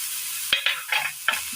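Grated coconut stirred in a hot pan on the stove, with a soft steady sizzle underneath a few quick scraping strokes of a spoon against the pan, close and fairly quiet.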